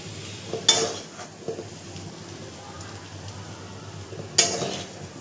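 A pan of chichinga mash with green chili is stirred, with two sharp scraping clinks of the spatula against the pan over a soft background, and a voice speaks faintly at times.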